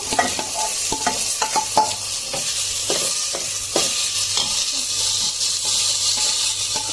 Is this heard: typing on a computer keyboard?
no